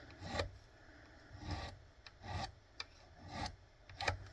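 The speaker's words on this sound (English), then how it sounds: "I'm going to take that safe edge and just sort of do a very, very small amount of rounding on each one of these frets" Small file rounding the fret ends on a cheap 24-fret bass guitar: four slow, regular rasping strokes about a second apart, close and fairly quiet, with a few light ticks between them.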